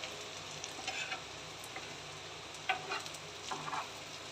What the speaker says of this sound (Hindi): इस तरह तवे पे सेक लिया जाता है